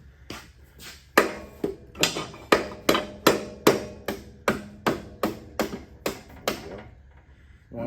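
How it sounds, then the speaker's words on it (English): A hammer or pry bar taps on the rear axle of a Honda VTX 1300 motorcycle to drive it out. About fourteen sharp metallic knocks land close by in a steady rhythm, one roughly every half second. "Work it a little bit with your pry bar. Bop on that axle over there a little bit."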